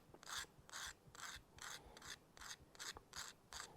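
A metal file rasps across a fishing hook to shape it, nine even back-and-forth strokes in a steady rhythm, close and fairly quiet, with no talking.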